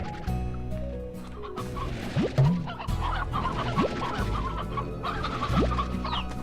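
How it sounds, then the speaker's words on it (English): Chickens in the video game Slime Rancher cluck repeatedly over a continuous layer of game music, several short clucks and rising squawks at irregular intervals, clear and fairly close in the mix. "That's the huge benefit of having just wild chickens running around the farm."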